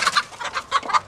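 Chickens clucking in a series of short, rhythmic bursts, close and fairly loud, with no talking over them.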